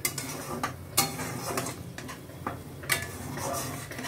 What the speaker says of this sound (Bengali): আমি এখন মশলাটা কষাবো